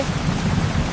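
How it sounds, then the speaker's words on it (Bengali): Rain falls steadily during a village flood, a dense, even hiss of pouring water heard alone at close range for a brief moment. "বৃষ্টি শুরু হয়ে গেছে,"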